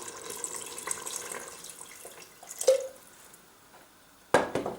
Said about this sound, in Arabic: باش نصب شوية ماء.